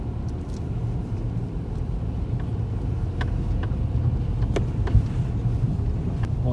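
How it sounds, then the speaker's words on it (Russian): A Kia Rio passenger car crawls at night along the rough Pamir Highway, a steady low engine and road rumble heard from inside with occasional knocks and clunks from the uneven surface. "Скорость движения 6 км в час. Легковой автомобиль Kia Rio."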